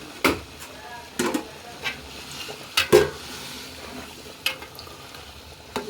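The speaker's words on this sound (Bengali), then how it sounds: "নাড়াচাড়া দিয়ে দিচ্ছি" Beef tehari being stirred in a cooking pot with a spoon, several sharp scrapes and knocks against the pot at irregular intervals over a low sizzle, close up.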